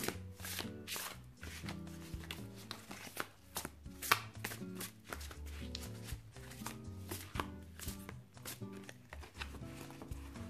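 A Goliath tarot deck is shuffled and cut, a dense run of crisp card flicks and riffles repeating for about ten seconds, close and fairly quiet, with no talking.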